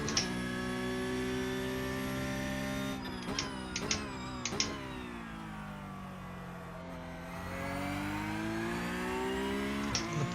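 Porsche Cup car engine in a racing simulator, a steady droning whine rising and falling with revs, with a few sharp gear-shift clicks midway and the pitch dipping then climbing again.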